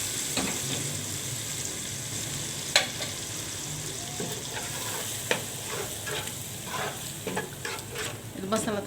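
Onions fry in a pan with a continuous close sizzle, while a spoon scrapes and stirs in irregular strokes that grow busier toward the end.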